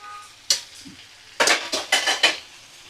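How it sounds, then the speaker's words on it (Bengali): Chopped bottle gourd pieces tipped into a frying pan, with a sharp clatter of metal spoon against the pan followed by a quick series of scraping, stirring clanks over a light sizzle. "এবার দেখো ছোট ছোট টুকরো করে কেটে রাখা লাউ আমি দিয়ে দিচ্ছি।"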